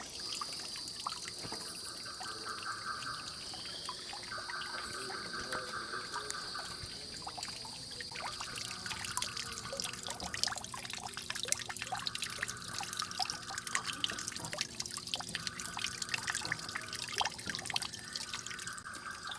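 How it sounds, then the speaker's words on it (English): Water dripping and trickling inside a glasshouse conservatory of flowers in San Francisco, soft scattered droplets over a quiet continuous flow, with no talking. "Should we get some more ASMR water droplet sounds?"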